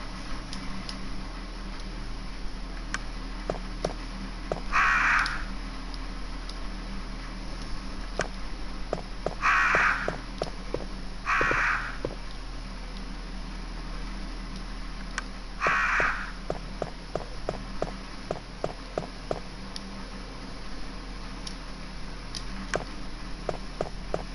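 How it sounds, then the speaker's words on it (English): Crows cawing in Resident Evil 1 Director's Cut: a few harsh, short caws spread several seconds apart, moderately distant, over a steady low ambient hum with faint ticking. "if you get this wrong, the crows start attacking you"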